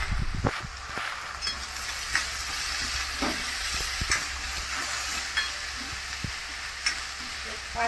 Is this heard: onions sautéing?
yes